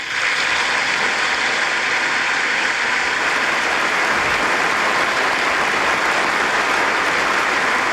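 A large audience at a political speech gives sustained, dense applause, a steady wash of many hands clapping at full strength throughout with no break.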